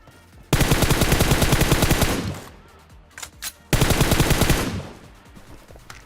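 Automatic gunfire in the PUBG Mobile video game, heard as two long loud bursts of rapid shots with a few scattered single shots in the gap between them, no talking.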